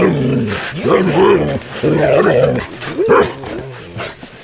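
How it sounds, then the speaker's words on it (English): A dog out in the wilderness gives a series of deep barks and growly vocalizations in several bursts over about four seconds, close and fairly loud, with a voice speaking around them. "No barking, don't do that."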